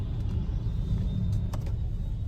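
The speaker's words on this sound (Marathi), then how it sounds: "इथे आम्ही असल्या डेंजर ट्रॅफिकमध्ये अडकलो ना" Heavy road traffic with cars jammed on a congested road, heard as a steady, loud, low rumble of engines that holds without a break and carries no clear talk.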